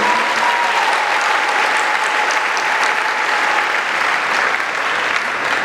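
A church congregation applauds the Lord at Sunday Mass, a steady, dense wash of clapping from many hands that fills the whole stretch evenly and close by, with no talk over it.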